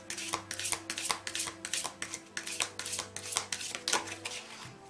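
A deck of angel oracle cards is shuffled by hand in a quick, steady riffle of crisp papery flicks and taps, close and fairly loud, with no talking over it.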